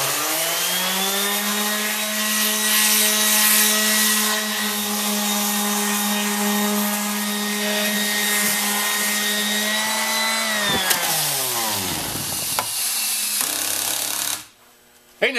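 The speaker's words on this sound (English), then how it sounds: "let's go finish sanding that log" A power sander grinds steadily against a wooden log with a strong droning hum, running loud and continuous before winding down and cutting off near the end.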